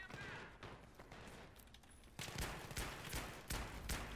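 Repeated sharp reports from a revolver in Battlefield 3's Gun Master mode, with scattered game clatter early and then several loud, closely spaced shots in the latter half, no voices over them.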